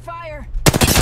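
Loud rapid automatic gunfire erupts in a shooter video game, a dense burst of shots cutting in abruptly after a brief vocal sound.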